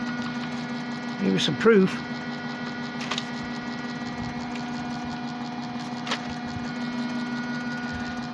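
A rewired BLDC washing-machine motor turns a fan on its high setting under load, giving a steady mechanical hum and whir throughout, with someone talking over it.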